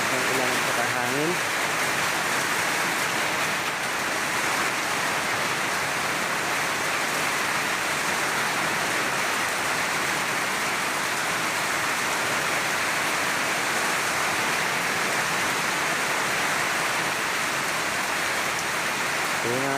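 Heavy rain with wind pours down in a loud, dense, continuous hiss over a cornfield, holding steady for nearly twenty seconds.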